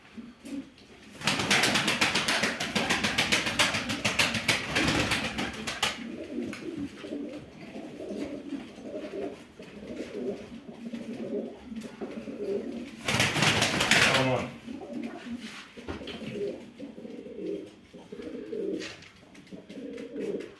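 Pigeons coo repeatedly up close, soft throaty calls rolling on and off, with bursts of wing flapping and rustling in between.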